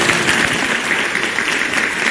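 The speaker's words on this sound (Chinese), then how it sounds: "给 大家掌声" Studio audience clapping on a Chinese television job-interview show, a steady dense wash of applause held at even loudness throughout, with no voices over it.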